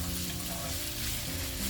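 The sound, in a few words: green beans stir-frying with fish chili in a pan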